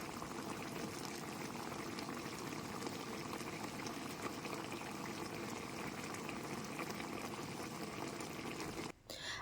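A pot of chicken pochero broth with pechay bubbling on the stove, a steady dense simmering hiss that runs unbroken at moderate loudness with no talk over it.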